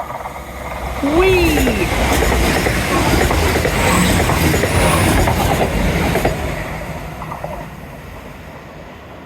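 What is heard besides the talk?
train coming in along Teignmouth seawall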